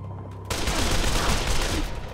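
Dense, loud gunfire from the Dead Island video game erupts suddenly after a quiet start and continues as a sustained rapid barrage, with no talking over it.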